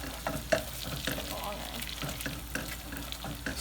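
Ginger and garlic roux is stirred in a hot pan with pre-fried crispy onions for butter chicken, giving a steady sizzle broken by repeated soft scraping strokes, close and fairly loud, with no talking.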